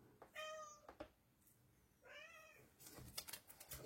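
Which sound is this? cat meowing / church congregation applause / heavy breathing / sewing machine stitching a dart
cat meowing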